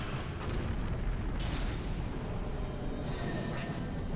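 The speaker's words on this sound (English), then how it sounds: "Just stick an explosion out there and hope he flies into it." A dense, roaring explosion from the video game Folklore booms loud and close, sustained as a thick continuous blast of noise across several seconds.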